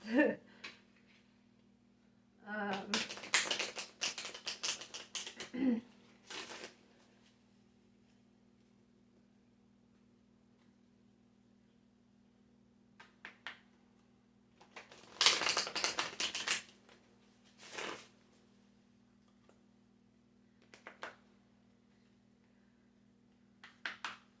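Tarot cards are shuffled in several quick riffling bursts, separated by pauses, close and crisp against a quiet background hum.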